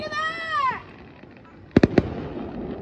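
Fourth of July fireworks at night: a rising whistle with excited voices over it, a brief lull, then three sharp, loud bangs in quick succession.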